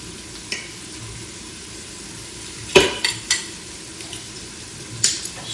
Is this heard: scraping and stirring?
yes